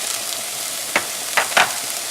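Beans and corn hiss and sizzle in a hot pan of frying onions and peppers for a taco samosa filling, a steady close crackle with a few sharper bursts as the mixture is stirred.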